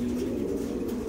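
A purebred rafeño pigeon hen coos in a low, continuous, close-up murmur that fills the short moment without other sounds.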